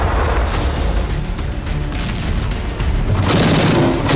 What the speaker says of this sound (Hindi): आसमान से अचानक ऐसे ही बॉम्बलेट्स की बरसात हुई और एक साथ कई धमाके हुए